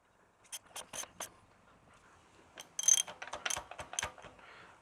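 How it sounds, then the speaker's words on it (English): A hand ratchet clicks in bursts as a Ford Festiva engine is cranked over by hand during a timing belt job, first a few spaced clicks, then a faster, louder run of ratcheting close to the microphone. "So I will go ahead and hand crank this over twice."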